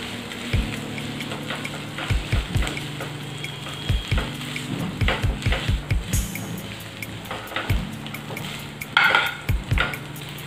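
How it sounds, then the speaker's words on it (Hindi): Potatoes being fried and pressed in a pan for aloo vada, with repeated clunking and scraping of a utensil against the pan in uneven bursts over a soft steady sizzle, no talking. "इस तरह से आलू को थोड़ा प्रेस कर करके अच्छी तरह से फ्राई कर लें।"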